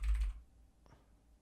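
Quick bursts of keystrokes on a computer keyboard, close and fairly loud for a fraction of a second, then near quiet broken by a single faint click.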